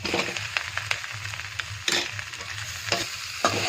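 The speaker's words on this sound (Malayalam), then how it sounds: "ഉരുളൻകിഴങ്ങൊക്കെ മസാലയിലേക്കിട്ട് നന്നായിട്ട് ഇളക്കി യോജിപ്പിച്ച്" Mashed boiled potato stirred into beef cutlet masala in a hot pan, with a continuous close sizzle and repeated scraping strokes of a spoon at an uneven rhythm, no voices.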